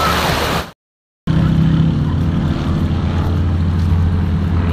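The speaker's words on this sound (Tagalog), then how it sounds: "Tingnan nyo yung eroplano mga bay oh" Broad steady engine roar of an airplane passing overhead at a tourist spot in Pangasinan, loud and continuous apart from a brief dropout near the start, with no talking.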